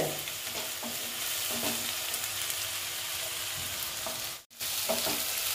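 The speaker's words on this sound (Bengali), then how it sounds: "এই যে আমি এটা আদা পেঁয়াজ টমেটো, হ্যাঁ, এই যে এটা আমি একটু ভালো মতন ভেজে নিলাম" Ginger, onion and grated tomato fry in a pan for a katla fish curry, giving a steady close hiss of sizzling oil with occasional soft stirring knocks and a brief pause near the end.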